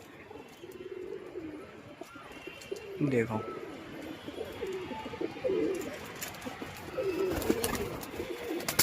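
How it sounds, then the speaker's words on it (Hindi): Pigeons coo at dusk, with soft low calls rising and falling through the clip over light background chirping, and a person speaks briefly. "ये जो 2 दिख रहे हैं इनमें से मेरे हिसाब से दोनों ही बड़े कबूतर हैं।"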